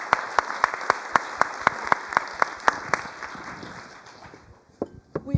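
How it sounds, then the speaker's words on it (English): Sparse, evenly spaced claps ring out for conference panelists after a policy session, a small audience clapping in a slow rhythm before it fades, then a couple of louder knocks at the end. "And a big applause to the panelists."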